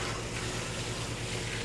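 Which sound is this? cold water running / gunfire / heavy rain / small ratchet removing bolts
cold water running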